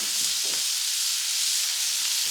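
Bacon sizzling on a Blackstone griddle: a loud, close, steady hiss and crackle of frying fat, with a faint scrape or two, and no voices.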